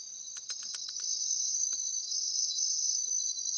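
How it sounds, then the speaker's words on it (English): Crickets chirp in a steady, continuous high trill, played as a peaceful background sound effect, with a few sharper pulsed chirps near the start and no voices. "All right, let's try this. Crickets."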